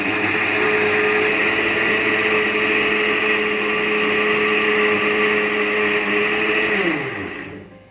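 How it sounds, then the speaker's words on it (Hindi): A blender whirs steadily and loudly while blending an Oreo ice cream shake, a continuous motor drone that winds down and stops near the end. "इसको अच्छे से ब्लेंड कर लेंगे।"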